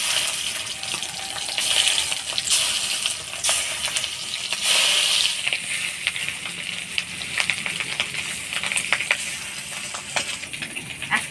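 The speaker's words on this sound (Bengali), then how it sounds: "মাছের ডিমগুলো ভেজে নিব।" Fish roe frying in a pan, a continuous crackling sizzle with bursts of sharp popping, close and fairly loud throughout.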